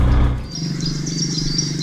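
Small birds chirp in quick, bright bursts all around in Ghana, steady and fairly close, with a low hum of activity underneath.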